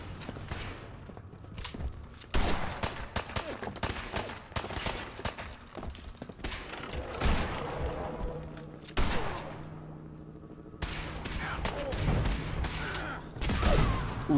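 Gunfire in the video game Fallout 4: loud, sharp shots in clustered bursts separated by brief near-silent gaps, with some mechanical clanks between volleys.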